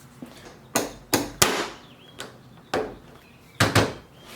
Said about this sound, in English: Go ahead and pop this lower eyelet in